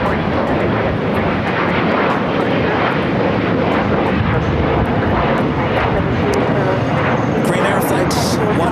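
Airliner jet engines roar at LAX, a loud, continuous broadband rumble up close, with a voice speaking over it.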